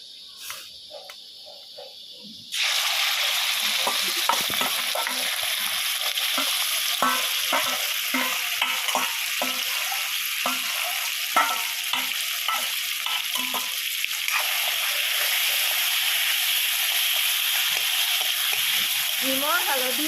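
Meat seasoned with salt, turmeric and oil frying in a pan, quiet at first, then a sudden loud sizzle that keeps hissing steadily with irregular stirring scrapes and crackles, and faint voices or other sounds in the background.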